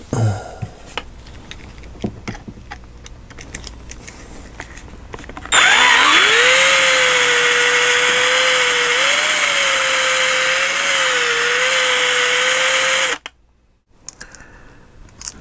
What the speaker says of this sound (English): I'm going to need a little bit bigger drill bit.